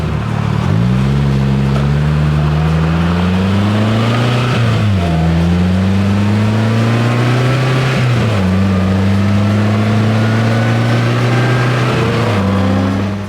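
A 2025 Polaris Slingshot 10th Anniversary engine pulls hard through several gears, the loud close drone rising in pitch and dropping at each shift, with no talk.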